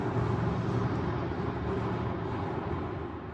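Tesla Model X cruising on a freeway, a steady low road and engine-free cabin rumble with tire and wind noise, constant and fairly loud throughout with no talking.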